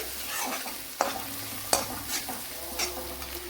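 A spoonful of coriander powder is stirred into a spiced mixture in a hot pan, soft frying sizzle under close scraping strokes and a few sharp knocks of the utensil against the pan.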